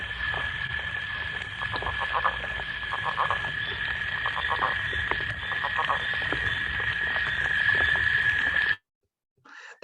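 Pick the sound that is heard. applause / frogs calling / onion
frogs calling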